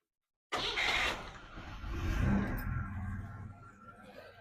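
A car engine cranks and catches after fuel system maintenance, starting abruptly, then settling into a low, rough idle with a brief rise in revs, fairly quiet and alone.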